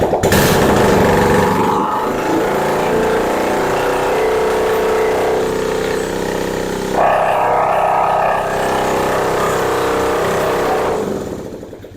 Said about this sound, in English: Now the right side exhaust is off, so if it sounds poppy like a balloon,